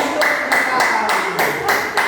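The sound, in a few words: audience applause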